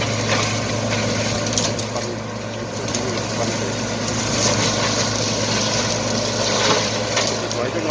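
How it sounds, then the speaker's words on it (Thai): A tree-branch shredding machine that grinds branches into fertilizer runs with its engine revved high, giving a loud, continuous drone that swells and dips slightly over the whole stretch. "แต่มีเสียงดังกันหน่อยได้ครับ เพราะว่ารถจะต้องเร่งเครื่องถึงรอบ"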